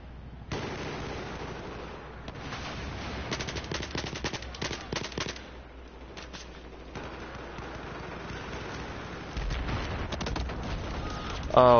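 M416 assault rifle fire in the Battlefield 4 video game, bursts of rapid automatic shots with gaps between them, mid-distance amid game effects.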